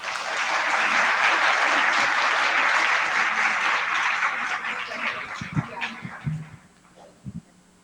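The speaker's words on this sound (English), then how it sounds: "One more big round of applause for Dr. Song." Sustained audience applause at a women's health expo in 2021, honoring a speaker named Dr. Song; dense clapping for about six seconds, then thinning out into scattered claps and brief low sounds.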